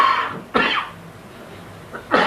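Three harsh coughs close by, spaced apart, with quiet pauses between them.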